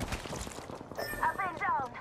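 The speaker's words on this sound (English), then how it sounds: "Listen up, I'm getting shot at." Gunfire in Apex Legends crackles in rapid bursts of shots, with higher-pitched game effects layered in and a player's voice partly audible over the action.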